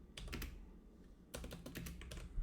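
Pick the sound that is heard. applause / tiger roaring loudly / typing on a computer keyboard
typing on a computer keyboard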